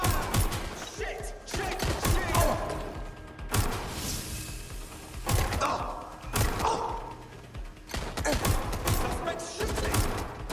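Bursts of gunfire in a Watch Dogs Legion firefight, loud rattling volleys and thuds that come and go in waves, mixed with shouted voices and game effects.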